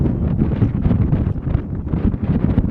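Wind gusts across an outdoor boys' varsity high school soccer field, a loud, continuous low roar and buffeting against the microphone with no other clear sounds.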